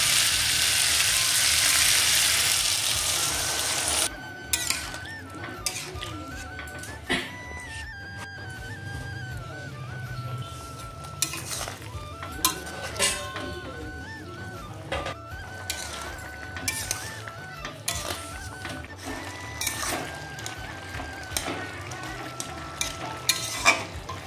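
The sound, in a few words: water added to frying broad bean seeds and potatoes, stirring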